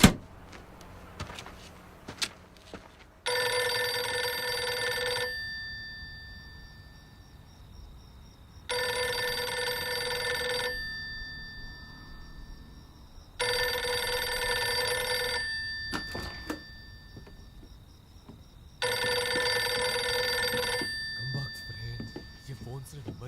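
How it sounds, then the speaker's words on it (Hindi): Four long bursts of a telephone bell ring out loud and near, each about two seconds with pauses between, over a faint low background hum. "Phone call."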